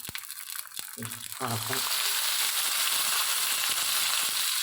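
Chopped banana flower tipped into a hot pan with roasted rice, a few clattering thumps followed by a loud, continuous sizzle and hiss of frying.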